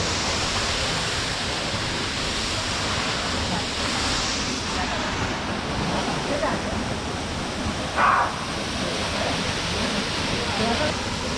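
Salto do Cabrito waterfall on São Miguel in the Azores pours in a steady, loud, broadband roar that fills the whole stretch, with a faint voice briefly audible beneath the rushing water.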